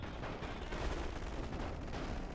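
Continuous rattling submachine gun fire in a World War I strategy game battle, a dense, steady barrage of overlapping shots with distant booms mixed in, unbroken for the whole stretch.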